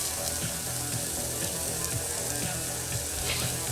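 Pork chops fry in a pan with a loud, dense, continuous sizzle and spitting crackle, close up and without voices.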